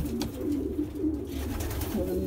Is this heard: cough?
no